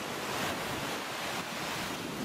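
Steady broadband roar of surf rolling onto a white-sand beach at Watamu, Kenya, with wind buffeting the microphone throughout and no voices.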